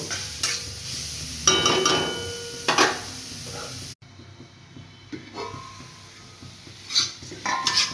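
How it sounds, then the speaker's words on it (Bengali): Beetroot gets stirred in a pan with a spoon, scraping and clinking against the metal in bursts over a low sizzle, then the pan is covered and quieter stirring follows. "এখন আমি নেড়ে চেড়ে একটু ঢাকা দিয়ে দেব।"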